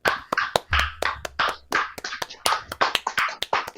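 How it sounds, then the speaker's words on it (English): A few podcast hosts clap by hand to welcome a guest, sharp close individual claps in an uneven quick rhythm, loud and dry, with no talk over them. "Let's give him a clap"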